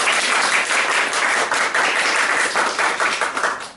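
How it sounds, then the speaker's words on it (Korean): Congregation at a Sunday church service claps to welcome a visitor, a close, loud and dense burst of applause that runs steadily throughout with slight pulsing and no talk over it. "박수로 환영하겠습니다."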